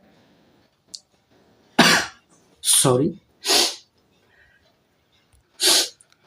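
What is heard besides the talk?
man coughing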